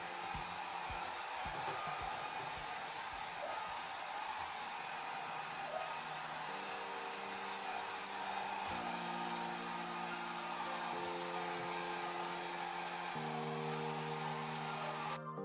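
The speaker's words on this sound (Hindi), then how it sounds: "अब हेयर ड्रायर से हम बालों को अच्छी तरह से सुखाएंगे।" A hair dryer blows on hair to dry it after a straightening cream is rinsed out, a loud, steady whirring drone that runs unbroken for about fifteen seconds with a faint shift in its hum partway through.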